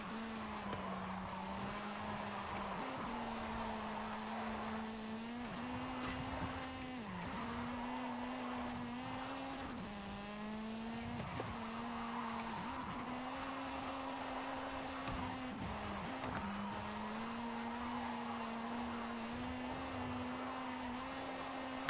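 Video game car drifting, a steady engine drone with repeated tire squeals and skids as it slides through turns, continuous and fairly loud.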